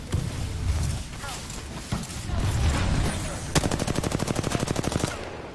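Rapid automatic gunfire in the Apex Legends Shadowfall mode, loud and close, with a fast even burst of shots near the end and game noise throughout.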